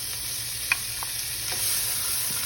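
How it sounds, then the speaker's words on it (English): Crisped bacon sautés quietly in a pan with garlic, bouillon and Italian seasoning, giving a faint, steady sizzle with a single soft clink. "you're going to let this saute a little bit."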